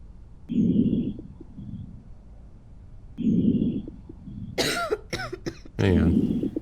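In the Quarantine Zone video game, an infected person gives two bursts of rough coughing, close and fairly loud, and then a voice speaks over a third cough near the end.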